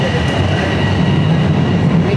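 A Toronto subway train rumbles steadily from inside the car, a loud, continuous roar of wheels and motor with faint rail clatter and no clear talk.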